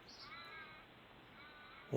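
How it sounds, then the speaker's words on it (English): Faint, drawn-out raven caws sound from a distance over quiet outdoor ambience, ending in a brief thump. "Here's some Australian ravens coming in for a drink"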